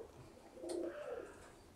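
Pigeons in a loft give a soft, low cooing call that swells briefly and fades, faint and alone with no talking.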